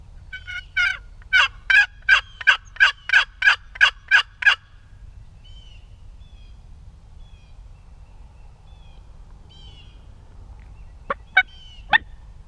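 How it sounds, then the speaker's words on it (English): A rapid series of about ten loud, rhythmic clucking yelps of a wild turkey in spring on public land in Kansas, followed by quiet, then a few more sharp calls near the end. "Right there, I just heard another faint gobble."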